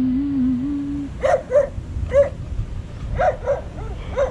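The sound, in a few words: dog barking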